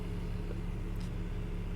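A BMW E46 engine idles while still warming up, with rough running and suspected lifter trouble on cylinder one. It makes a steady close low rumble with a faint uneven pulse and no talking.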